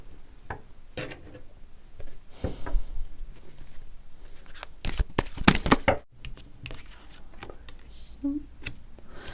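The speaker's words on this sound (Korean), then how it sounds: "두 분의 추가 카드에 대한 거를 조금 더 뽑아볼게요" Tarot cards shuffled and drawn by hand, heard as quick papery riffles and rustling bursts, loudest in the middle, with a faint voice in the background.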